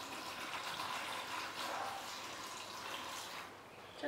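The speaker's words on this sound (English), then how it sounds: "So this is just some rainwater with the pre-mixed nutrient water. And I'm gonna pour this" Rainwater mixed with nutrient solution is poured into the pot of a variegated Monstera deliciosa, making a steady close trickling and gushing stream that stops near the end.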